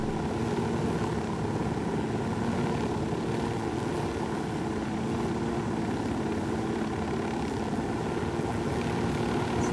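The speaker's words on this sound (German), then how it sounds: "Eieieiei, Hubschrauberbegleitung." An escort helicopter flies in the video game Ghost Recon Wildlands, a constant rotor and engine drone that stays steady and fairly loud from start to finish with no talk.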